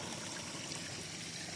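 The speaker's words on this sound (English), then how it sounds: "I'm going to put my hands in this water" Flowing stream water rushing steadily and fairly loud, a continuous splashing wash close by with no pauses.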